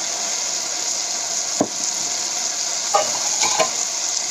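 Okra curry spiced with chili powder sizzles steadily in a pan as it is stirred. A few distinct scraping clicks from the spoon sound over the constant close frying hiss.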